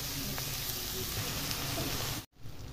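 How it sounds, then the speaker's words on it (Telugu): Onions and raw prawns fry in a pan, giving a steady, close sizzling hiss that holds evenly for a couple of seconds and then cuts out abruptly before resuming faintly. "ఉల్లిపాయ బాగా వేగిందండి."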